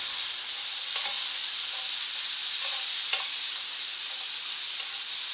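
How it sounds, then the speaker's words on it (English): Soaked bread being stirred through bouillon in a bowl or pan, a steady wet hissing texture with a few soft scraping stirs, close up and continuous. "And just mix it all up again."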